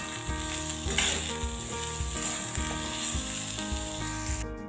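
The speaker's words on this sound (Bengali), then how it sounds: "ডুমুরের সাথে নুন হলুদ দিয়ে ভালো করে মিশিয়ে নিয়েছি" Figs mixed with salt and turmeric sizzle and fry in a pan, a steady, close, bright crackle with occasional scrapes of stirring.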